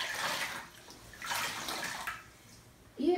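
Bath water with an added bath additive sloshes and splashes in a few soft, close bursts as a face compress is dipped and soaked in it, ending on a brief louder swish.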